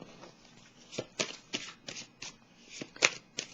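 Tarot cards are shuffled and set down close by, a soft run of riffling flicks and light taps ending in a few sharper slaps, quiet and with no talk.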